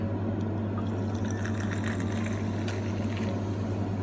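Soda water pours into a glass for a passion fruit mocktail, a steady fizzing splash over a constant low mechanical hum, with no talking.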